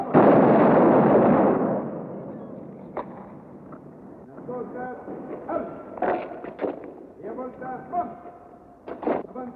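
An artillery battery fires in the film Queimada: one heavy blast rumbles and fades at the start, followed by a run of sharper distant cracks and pops over a few seconds.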